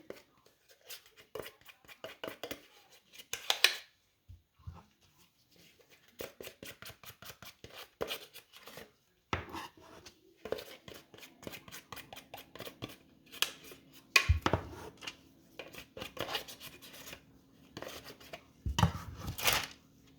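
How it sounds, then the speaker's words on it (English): A spatula works ointment ingredients on parchment paper for nonsterile compounding, giving close, quiet bursts of rhythmic scraping and smearing strokes separated by short pauses, with no voices. "we go ahead and grab our parchment paper, which we're going to mix our ingredients here using our spatulation method"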